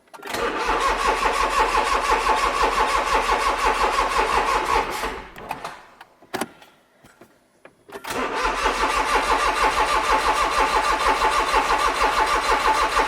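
A Smart Roadster car engine cranks with a fast rhythmic chugging, drops into near silence for a couple of seconds, then cranks again loudly and close by.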